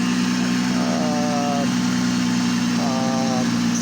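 A 2005 Toyota Avalon engine idles with a loud constant rumble and a hissing exhaust noise from a leaking flex pipe, while a voice talks briefly over it.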